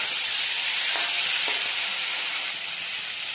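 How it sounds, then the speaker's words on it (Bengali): Water poured into a pan of spiced potatoes that have been frying in oil, producing a loud, steady sizzle and hiss that fades slightly toward the end, with no voices. "এবার আমি এর মধ্যে জল ঢেলে দিচ্ছি।"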